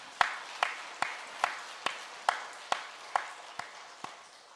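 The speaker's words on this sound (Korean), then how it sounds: "우리 찬양대의 감사와 하나님께 영광의 박수 올려드리겠습니다." Slow, evenly spaced single claps ring out in a reverberant church after the choir's hymn, about ten sharp, distant-sounding hits with short echoing tails and no voices.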